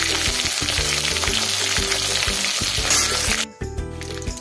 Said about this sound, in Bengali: মাংসটাকে এইভাবে হালকা লাল লাল করে ভেজে তুলে নিতে হবে